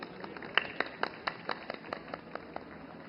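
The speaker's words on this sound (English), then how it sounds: "let's welcome him with a round of applause" Scattered audience applause at a film festival inauguration, a thin run of separate claps rather than a full ovation, fairly quiet and somewhat distant.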